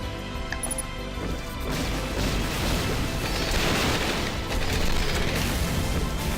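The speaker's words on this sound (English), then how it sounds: "These guys are shooting green missiles at me." Green missiles fired at the player in the video game Rengoku: The Tower of Purgatory, heard as a dense clattering run of crashes and blasts that grows louder after the opening second and keeps rolling, with no voices.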